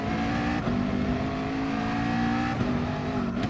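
Race car engine in GT Sport at the Barcelona circuit, a sustained high-revving drone with steady harmonic whine and brief shifts, continuous and moderately loud, with no talking.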